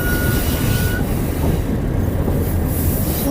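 A train crosses a wooden bridge on the Death Railway in Thailand with a loud, continuous rolling rumble of wheels and cars, and a thin wheel squeal early on.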